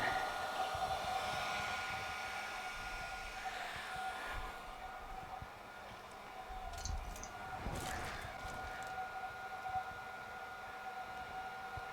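A newly designed forge being fired up gives a steady, faint roaring hiss throughout, with a few light knocks near the middle.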